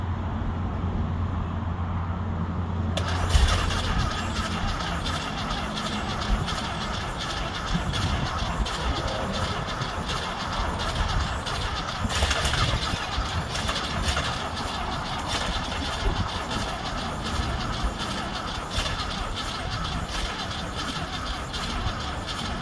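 A stuck old-school Volkswagen Baja Bug hot rod engine cranks and fires. After a brief quieter start, a steady, loud mechanical running roar takes over and carries on for about twenty seconds, with no talk.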